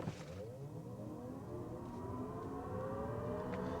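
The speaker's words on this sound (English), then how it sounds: "you can hear that sound that it pipes in when you're accelerating hard" Synthetic acceleration tone piped into the cabin of a 2024 Chevy Blazer EV RS during hard acceleration from a stop, a smooth layered whine whose pitch rises steadily for several seconds, constant and moderately loud, with no talking.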